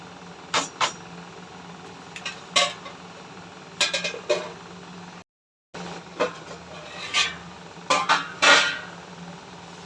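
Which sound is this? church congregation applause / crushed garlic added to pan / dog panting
crushed garlic added to pan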